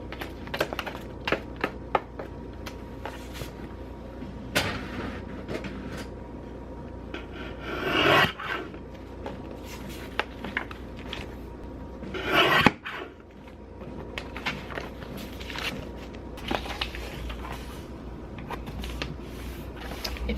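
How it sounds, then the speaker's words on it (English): Printed paper newsletters being folded by hand one at a time, with close, soft rubbing and rasping paper sounds, light creases and taps, and two longer louder swipes as the folds are pressed down. "If you're wondering why I fold these individually, it's because it's actually super annoying folding a stack of them and then separating them out."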